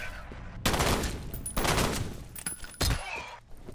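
Loud bursts of automatic gunfire in the shooter game F.E.A.R., several heavy volleys with brief gaps between them, close and dominant with no talking.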